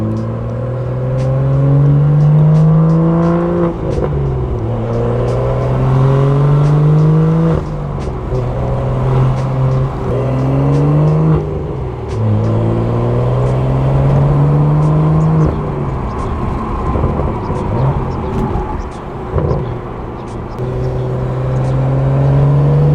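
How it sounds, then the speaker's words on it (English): BMW M4 with catless downpipes and Stage 2 tune at full throttle in a tunnel, a loud, close engine roar with repeated rising rev pulls and gear-change dips, echoing off the walls without a break. "This car full throttle in a tunnel, it's so loud."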